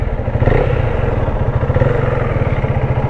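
A KTM Duke 390 with a new Apollo Alpha H1 150/60 R17 rear tyre chugs loudly and close with a steady, fast single-cylinder thump, then revs slightly as it sets off on a test ride.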